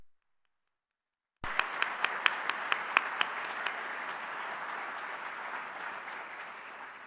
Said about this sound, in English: Will you please join me in giving them all a round of applause?